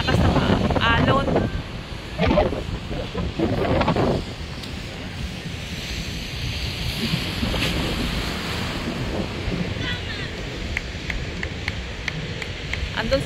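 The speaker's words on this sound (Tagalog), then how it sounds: "Kasi nga sobrang lakas ng alon." Heavy surf roars and crashes close by, buffeted by wind noise on the microphone, with a few brief voices early on.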